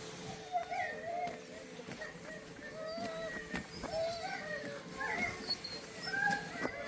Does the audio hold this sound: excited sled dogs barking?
yes